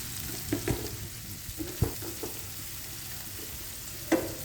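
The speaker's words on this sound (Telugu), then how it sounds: "ఆయిల్ ఫ్రై అవుతాయి బాగా ఉల్లిపాయలతో పాటు." Onions and chillies fry in oil in a pan for a raw-banana dish, with a soft steady sizzle broken by several distinct knocks and scrapes of a stirring spoon, close and fairly quiet.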